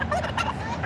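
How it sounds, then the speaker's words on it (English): Turkeys gobbling nearby on a farm in a few quick, warbling bursts, fairly loud, with no talking. "You guys want to see the turkeys? They're right here."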